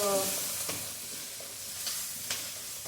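Onion, garlic and green chili stirred in hot oil, a steady close sizzle with a few soft spoon scrapes spaced through it, no voices.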